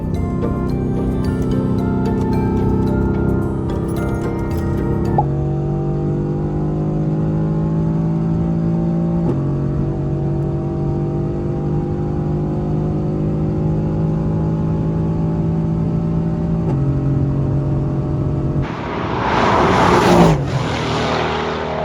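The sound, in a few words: Mercedes-AMG GT R accelerating at high speed on Autobahn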